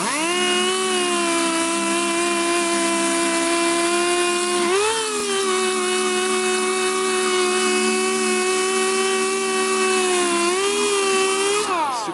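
A power sander whines loudly and continuously against an old metal wheel, its pitch dipping briefly a couple of times as pressure shifts.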